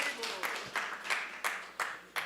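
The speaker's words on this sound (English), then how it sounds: "a loud applause for the priests and for the beautiful dressing they have done" Applause for the priests at a temple Sunday feast: a soft, fairly distant crowd clapping in a steady, rhythmic pulse of claps about every half second, continuing evenly throughout.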